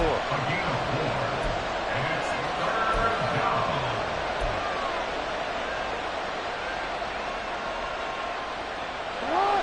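Football stadium crowd roaring and cheering ahead of a big third down, a dense, sustained wash of many voices at a fairly even level throughout, with a slight swell near the end.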